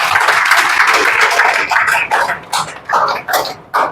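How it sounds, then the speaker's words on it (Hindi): An audience at a Bihar police selection celebration claps and applauds loudly for several seconds, a dense burst of clapping that thins into scattered claps toward the end. "ताली बजाइए इनके लिए।"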